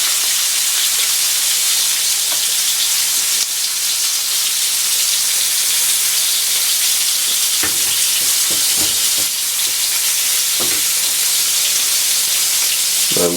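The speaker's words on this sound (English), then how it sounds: "Now I'm going to press the steak from time to time." Ribeye steak fries hard in a hot pan, a loud steady sizzle throughout with a few sharper crackles and spits as the meat is pressed down, no voices.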